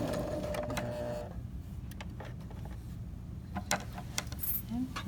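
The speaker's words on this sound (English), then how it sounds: "and then I'm just going to go ahead and sew" A sewing machine stitches a tote bag seam at 5/8 of an inch, with a steady mechanical whir that gives way to sparse clicks and taps, heard close at moderate level.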